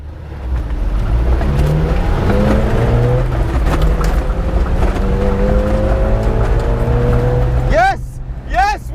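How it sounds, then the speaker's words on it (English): A Nissan and a Toyota accelerating side by side in a drag race, loud engines roaring and rising in pitch for several seconds, close by, followed near the end by sharp sweeping squeals and voices. "First round of the drag race, let's go."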